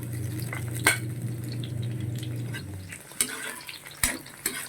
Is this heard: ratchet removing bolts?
no